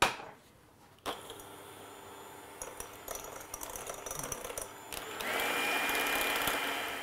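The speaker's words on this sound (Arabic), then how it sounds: "اول حاجه نبداو نطلعوا البيض" An electric mixer whips three eggs with about a quarter cup of sugar in a bowl. Clattering and whirring build up, then settle into a steady, high, buzzing whine near the end, with no talk.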